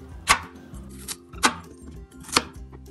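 Radishes chopped into small pieces on a cutting board for a mixed vegetable pickle, the knife striking in sharp, evenly spaced chops, about one every half second to second, loud and close with no talk.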